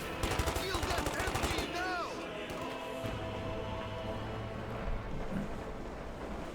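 Rapid bursts of gunfire from Company of Heroes 2 artillery guns force-firing the ground, dense crackling shots in the opening seconds that give way to steady rumbling battle noise, with game sound effects layered throughout.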